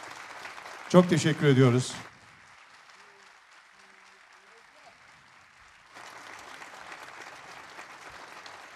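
A short, loud burst of applause from the audience at a jazz concert during the Aliağa jazz days fades quickly, followed by a quiet pause and then a speaking voice.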